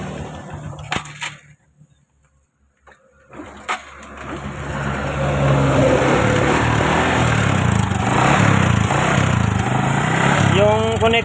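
Honda XRM 125 motorcycle, with a damaged connecting rod, starting up: a couple of sharp clicks and a short silence, then the engine catching and running in a steady, loud, close idle.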